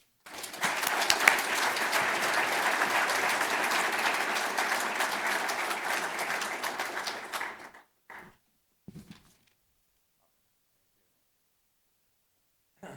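An audience gives a sustained round of applause for a speaker named Ken returning to Wisconsin. The clapping is steady and fairly loud for about seven seconds, then fades, leaving a few scattered claps and near silence.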